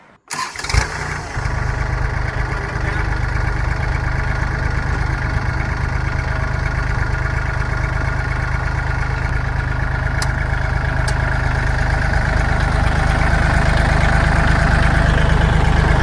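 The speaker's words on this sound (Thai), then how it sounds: "เดี๋ยวมาสตาร์ทเครื่องยนต์ให้ฟังครับ" A Kubota L3608SP tractor's diesel engine cranks on a new battery and catches, then settles into a steady, loud, rumbling idle that runs on without a break.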